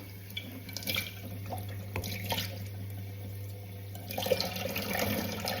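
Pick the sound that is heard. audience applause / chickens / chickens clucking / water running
water running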